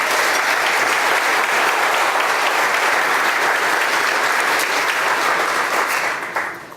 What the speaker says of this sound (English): Please give our awards winners one more round of applause.